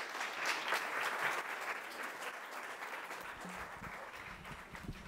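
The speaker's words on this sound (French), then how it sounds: "Vous pouvez l'applaudir" Audience applause for Sophie Roch, deputy mayor, at an evening event in Marseille; dense, steady clapping from a crowd continues at a moderate level, tapering slightly toward the end.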